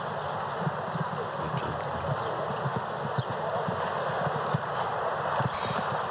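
A show jumping horse canters in a Grand Prix arena, its hooves thudding in a steady rhythm under broad outdoor background noise, moderately distant.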